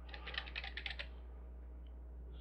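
Rapid run of computer keyboard keystrokes for about a second, close and soft over a steady low electrical hum, then only the hum remains with no talking.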